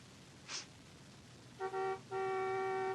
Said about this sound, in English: she heard the car honking outside